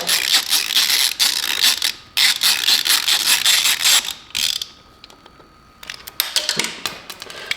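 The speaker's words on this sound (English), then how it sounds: "we're going to unbolt the actual SAS valve from the bike" Wrench work unbolting the SAS valve on a Husqvarna 701 Enduro motorcycle, with bursts of rapid ratchet clicking broken by short pauses and scattered metallic taps, close and fairly loud.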